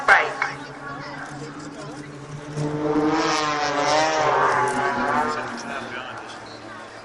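Blades aerobatic display team propeller aircraft at the Cosford airshow, a distant engine drone swelling and fading as the planes pull up into the vertical, heard beneath continuous commentary over a public address.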